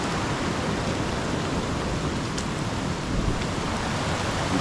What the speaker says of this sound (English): Such a flow of water.